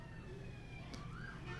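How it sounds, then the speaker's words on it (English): A distant emergency siren wails faintly through a town street, a thin rising and falling tone under low background rumble. "a lot of ambulances rushing through here these days"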